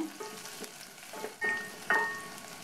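Chopped onions sautéing in a pan for a millet vegetable porridge, a faint soft sizzle with a few scraping stirs and clinks of a utensil, quiet and close, with no talking.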